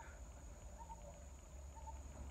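Crickets chirp faintly outdoors in short, evenly spaced trills over a soft, steady background hiss, with no voices present.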